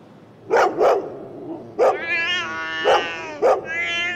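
A dog barks at a cat in short sharp bursts, about five barks close by, mixed with a drawn-out cat yowl between them.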